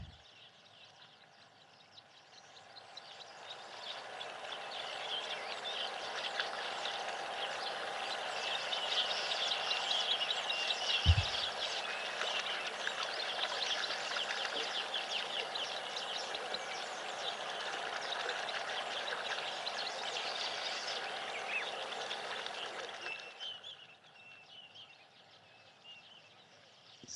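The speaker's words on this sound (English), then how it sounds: "So that constant high-pitched chattering, that's the call of the weavers" Weaver birds chatter constantly in an acacia tree, a dense high-pitched wash of calls that swells in, holds steady for a long stretch and fades away, with one brief low thump partway through.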